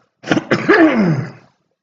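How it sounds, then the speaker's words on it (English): A single person clears their throat and gives a short rough cough, close and alone, then silence. "Had to cough."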